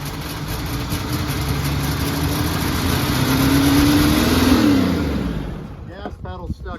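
An AMC Eagle engine running on a short test drive in a backyard, a steady close rumble that swells as it revs and then cuts off near the end, with a few clunks and a voice at the close.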